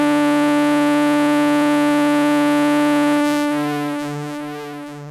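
An Arturia MicroFreak synthesizer patch holds one sustained, buzzy harmonic note with its LFO tied to the envelope, steady at first, then wobbling and slowly fading as the modulation kicks in.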